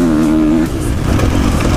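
A 2016 Kawasaki KX450F motocross bike engine revs hard close up, a steady high-pitched roar that drops and turns rougher partway through, loud throughout with no talking.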